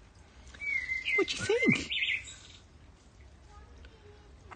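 A blackbird calls directly overhead outdoors, giving a few clear whistled phrases that rise and fall. A voice speaks briefly underneath, and the bird goes quiet after about two seconds.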